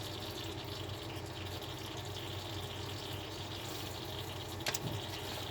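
Power steering fluid draining from a loosened hose on a 2005-2010 Honda Odyssey, a faint, continuous trickling and splashing of liquid against steady background noise, with a brief knock near the end.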